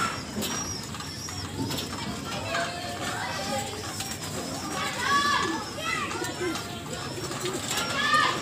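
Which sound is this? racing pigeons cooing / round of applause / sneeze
racing pigeons cooing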